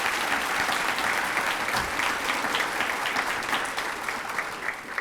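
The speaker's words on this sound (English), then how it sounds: "Join me in giving them a round of applause." Audience at a teacher of the year banquet breaking into sustained applause, a dense wash of clapping that holds steady and then begins to thin toward the end, with no talking over it.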